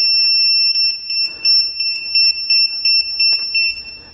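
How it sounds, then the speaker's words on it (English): High electronic beeps from an INNOV blind-side detector on a motorbike starting up sound in a quick irregular pattern of short pulses, loud and close, with faint background noise between them. "The beeping is my INNOV third eye blind side detector."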